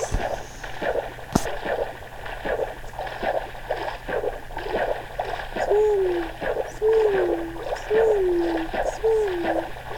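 Swimming through water in an island zombie survival video game, with rhythmic, repeated splashing strokes under a steady background hum and a few recurring tonal game sounds.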